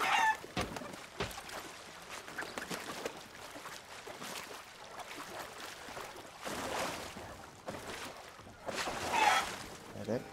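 Chickens cluck and squawk in the pirate video game Sea of Thieves, with scattered bursts of fowl calls over game ambience and water sounds, while someone talks intermittently.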